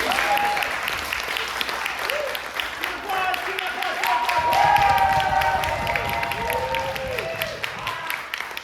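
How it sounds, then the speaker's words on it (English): Comedy improv theatre audience in San Diego applauding after a house team show, a sustained wash of many hands clapping with cheering voices and a host talking over it. "Give yourselves a round of applause."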